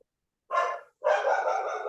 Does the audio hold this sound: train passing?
no